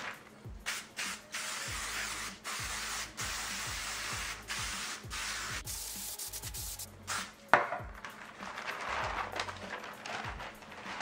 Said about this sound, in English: use some type of non-stick spray on the parchment paper